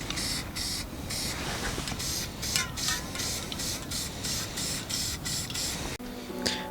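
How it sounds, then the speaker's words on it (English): Clear coat sprayed from a spray can onto a painted gun optic, rapid repeated short hissing bursts close by, with a continuous rushing noise and a brief pause near the end. "we're going to go ahead and clear coat this guy"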